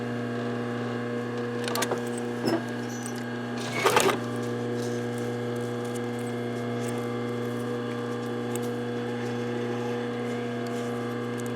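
A sewing machine stitching across folded fabric and tape for a pencil or crochet hook case, giving a steady motor hum throughout with a few brief louder bursts near the start.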